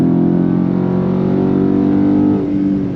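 A Dodge Charger Scat Pack widebody with a 6.4-liter Hemi V8 revs, a loud, deep sustained engine roar that holds steady before the revs drop away near the end.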